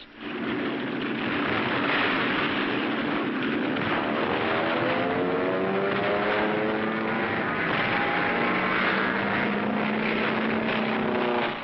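Military propeller aircraft drone steadily overhead at Tarawa, a loud continuous engine roar with rising and falling pitch from the engines, heard alone on an old wartime recording.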